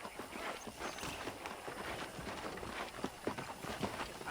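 Horse hooves clip-clop steadily on a ranch in the Red Dead Redemption video game, a quiet, even trotting rhythm with faint ambient background throughout.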